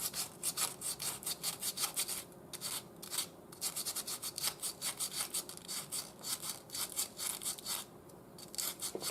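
Rhythmic back-and-forth sandpaper strokes rubbing on a wooden spoon, working through fine grits up to 2000, steady and close with brief pauses, no talking.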